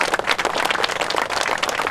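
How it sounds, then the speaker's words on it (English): Big round of applause from a crowd at a Dover city sign dedication, a steady dense clatter of many hands clapping close and fairly loud, with no talking over it. "would y'all give them all another big round of applause?"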